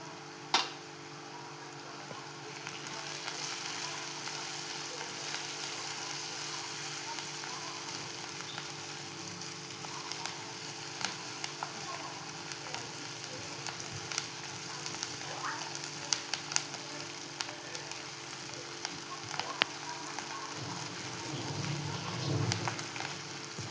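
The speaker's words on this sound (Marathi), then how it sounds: "तोपर्यंत इथे आपण कांदा परतवून घेतो. त्यात टाकतोय आपण थोडीशी हळद, थोडंसं हिंग" Chopped onion with a pinch of turmeric and asafoetida frying in a pan for a spinach dish, giving a steady soft sizzle throughout with scattered small crackles and a brief stir near the end.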